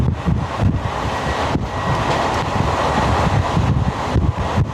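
A Virar-Dahanu local train runs fast between Boisar and Vangaon, giving a continuous loud roar of wheels and rushing wind buffeting the microphone, close and steady throughout.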